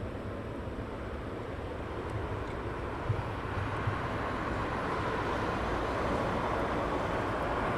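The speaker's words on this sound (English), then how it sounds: "British Airways 777 taxiing down" A British Airways 777 taxiing at London Heathrow, a steady, broad engine roar that holds evenly throughout at moderate distance with no voices.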